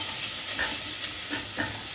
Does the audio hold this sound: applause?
no